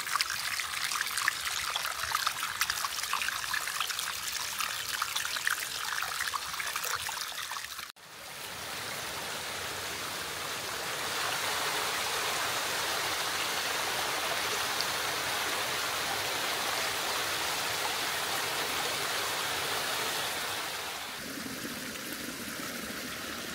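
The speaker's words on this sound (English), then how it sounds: "Nothing like when the trail becomes the river or the stream." Water runs steadily across a hiking trail where a creek has taken over the path near Twin Creeks, a constant close trickling and gurgling flow with a brief shift in tone partway through, no voices.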